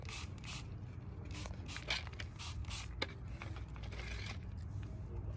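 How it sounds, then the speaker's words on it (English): Repeated short hissing bursts of a hand sprayer misting a curry leaf plant for pest control, close by, over a steady low background rumble. "Let me also spray on the branches."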